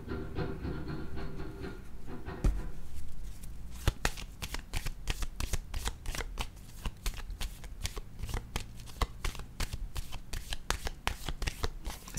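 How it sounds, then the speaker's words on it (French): Tarot cards shuffled and handled close up in a rapid run of crisp riffling snaps and flicks, preceded by a brief softer rustle, with no talking. "le temps que je regarde les cartes"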